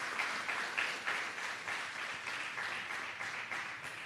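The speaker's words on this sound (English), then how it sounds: "rousing round of applause?" An audience at a youth mayors' forum held by a ministry of local government gives a sustained round of applause, steady dense clapping heard at moderate distance and fairly faint.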